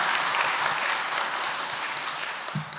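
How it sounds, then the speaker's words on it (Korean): A church congregation claps in a dense, even wash of many hands. The applause stays steady and moderately loud throughout, with no talking on top. "우리 목사님, 장로님들 잘 감당해 달라고 크게 박수 한번 하겠습니다."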